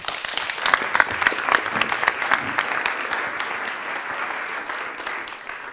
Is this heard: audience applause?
yes